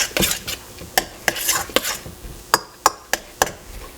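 A spoon scrapes and clinks through a lamb and feta filling as olive oil is stirred in, giving close, sharp strokes in an uneven rhythm with no talking.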